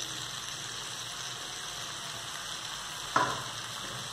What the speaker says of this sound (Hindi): अब हम इसमें डाल देंगे कटे हुए पालक।